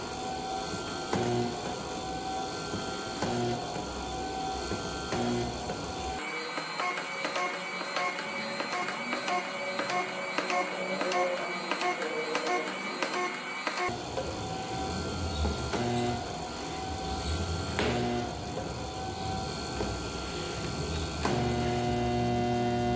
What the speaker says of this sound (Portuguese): Então eu vou começar a soldar aqui e vou ver se eu consigo filmar para vocês.